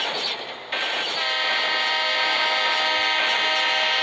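A Roblox game train roars past, its loud, sustained horn tone sounding over steady rushing rail noise, close and continuous, with no one speaking.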